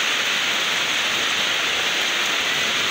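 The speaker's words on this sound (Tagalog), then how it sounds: "Ayan naman, lakas naman ng hangin." Steady, dense broadband roar of strong typhoon wind buffeting outdoors in Baguio, with light rain, constant and loud throughout with no pauses.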